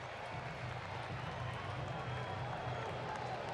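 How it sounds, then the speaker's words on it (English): Crowd at a Pittsburgh baseball game jeering with a Bronx cheer, a dense continuous roar of many distant voices filling the ballpark, steady without breaks. "The Bronx cheer has come to Pittsburgh."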